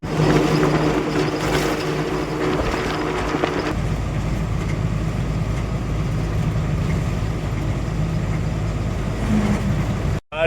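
A second-hand 12-wheel truck rolls along a road with a constant heavy rumble of engine and tyre noise. It is loud and steady at first, settles into a smoother drone, and then cuts off abruptly.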